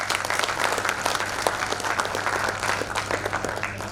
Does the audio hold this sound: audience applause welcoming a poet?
yes